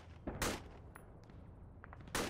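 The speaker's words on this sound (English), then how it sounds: "Keep up the suppressive fire" Gunfire in the military simulator Arma 3, laying down suppressive fire: two loud, sharp bursts about two seconds apart, with quieter distant pops and a low rumble in between.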